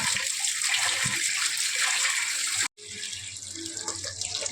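Running water from a tap splashes steadily as vegetables are rinsed for aloo masala gravy, with a brief cut midway before the flow resumes, close and continuous.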